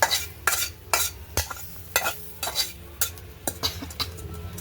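Water spinach (kolmi shak) is stir-fried in a pan, with rhythmic scraping strokes of a spatula roughly every half second over a low background sizzle, close and clear without talk.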